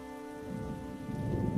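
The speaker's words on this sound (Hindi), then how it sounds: "बाहर बारिश लगातार होती रही।" Steady rain falls outside a roadside dhaba, a soft continuous hiss that swells slightly toward the end, with a faint steady hum underneath.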